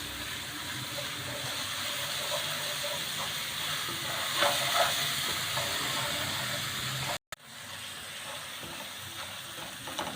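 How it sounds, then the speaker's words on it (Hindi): Ginger-garlic paste frying in a pan for a potato karahi, a steady broadband sizzle with a brief drop to silence near the end before the hiss resumes. "थोड़ा सा हम इसको 1 से 2 मिनट के लिए फ्राई करेंगे"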